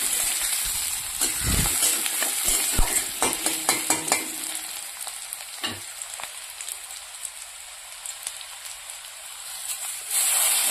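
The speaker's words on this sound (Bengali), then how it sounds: "এবার পেঁয়াজটাকে হালকা ব্রাউন করে ভেজে নেব।" Chopped onions sizzle in hot oil in a pan while being fried to light brown, a soft steady crackle broken by sharp scraping stirs near the start.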